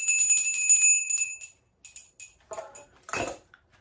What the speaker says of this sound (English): A bell to help signal to your brain that it's time to get started.